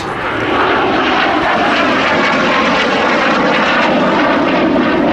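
Loud, continuous jet engine roar from a BAC Jet Provost T3 trainer at an air festival, swelling in over the first half second and then holding steady and close with no voices.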